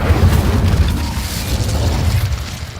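Incendio fire spell cast in the Hogwarts Legacy video game, a deep rumbling burst of flame that rolls on steadily, loud and close, with no talking over it.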